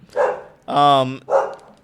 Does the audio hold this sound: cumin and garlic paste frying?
no